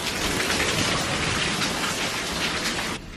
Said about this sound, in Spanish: Cuando llueve así, la verdad, sí me da bastante miedo.